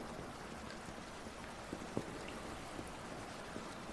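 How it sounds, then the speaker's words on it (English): Steady rushing water fills a video game cave, a continuous broad wash of flowing stream sound with a few faint ticks and drips rising briefly above it, no voices. "But with the water rushing, it's hard."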